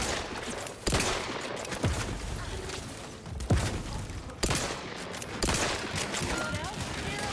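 Sustained bursts of gunfire during a combat firefight in the video game The Outer Worlds 2, with sharp loud shots and volleys at irregular intervals over dense background action, under intermittent talk.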